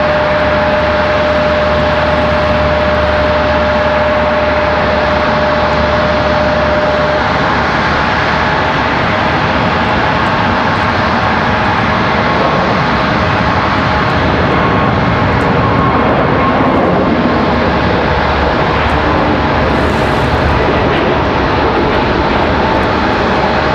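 A Frontier Airlines jet departing Raleigh-Durham airport for Orlando gives a loud, continuous engine roar that stays strong and steady throughout, with no voices over it.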